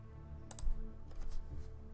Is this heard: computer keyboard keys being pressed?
yes